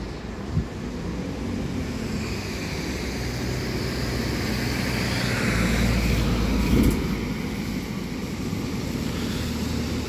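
A Stagecoach bus idles and pulls through Scunthorpe bus station with a low, steady engine rumble. The sound swells slightly as the bus comes nearer, under a broad wash of station and traffic noise.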